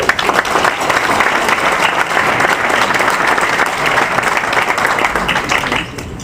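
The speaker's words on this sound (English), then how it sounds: "Let's give them a round of applause." An audience at an AUSA chapter gathering applauds award recipients, a loud, dense burst of clapping from many hands that holds steady for several seconds before tapering off at the end.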